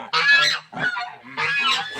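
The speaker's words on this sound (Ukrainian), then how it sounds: "А потім бачу, гуска прийшла." Domestic goose honking at night on a farmstead during a nighttime check, a loud, close series of harsh honks in three bursts with short gaps.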